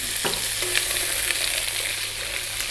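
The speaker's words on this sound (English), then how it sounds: "we're going to fry this sweet potato for about 4 minutes. Keep it moving there." Sweet potato pieces fry in coconut oil over high heat, a close, continuous crackling sizzle with the rustle and scrape of stirring, and no voices.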